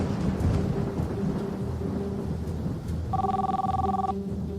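A telephone ring sound effect over rumbling thunder and rain, the brief electronic trill rising out of the steady storm noise near the end.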